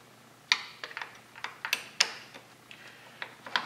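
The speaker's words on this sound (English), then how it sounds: "I'm good to go ahead and disconnect my negative battery terminal" A 10 mm Snap-on wrench works loose the negative terminal on a car battery, making a string of close, sharp ratcheting ticks at an uneven rhythm.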